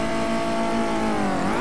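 A racing car engine in a VR historic circuit race holds a steady, loud harmonic drone, its pitch sagging slightly near the end as it downshifts to fourth gear, with no talking.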